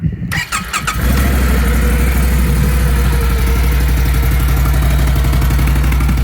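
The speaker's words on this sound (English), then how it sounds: "It is not loud at all, but it's got that little V-twin rumble." A 2021 Can-Am Renegade 570 ATV's V-twin engine idles close by with a steady, throbbing rumble after a brief burst of noise at the start.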